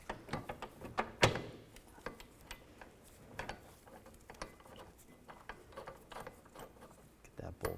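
A hand ratchet clicks in fast, uneven bursts driving the lower rear shock bolt on a 2007-2013 Mini Cooper, with close metallic knocks and tool handling throughout.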